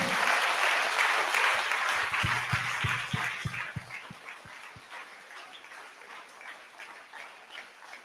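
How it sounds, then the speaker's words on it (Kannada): A church congregation at Eucharistic adoration claps loudly together in a dense burst of applause, then it thins into scattered individual claps and fades away. "Let's give the Lord a big hand of praise."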